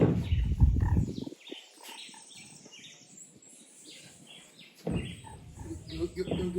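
Birds at Rockland bird sanctuary in Jamaica flock in to be fed, with loud close wingbeats fluttering at the start and again near the end while thin chirps and squawks continue throughout, and no voices.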